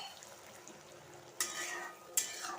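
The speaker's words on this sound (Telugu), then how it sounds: "నీళ్ళు పోసేద్దాం." Water hits a hot frying pan of sautéed ingredients for pappu pulusu dal, giving two sudden, sharp sizzling hisses a moment apart over a faint, quiet kitchen background.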